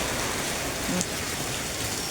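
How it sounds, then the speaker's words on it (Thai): Rain pours down at a house, a thick constant roar of drops hitting the surface without letup, loud and close throughout with no speech. "บ้านแม่น้องกระดาฝนตกเด้อพี่น้อง"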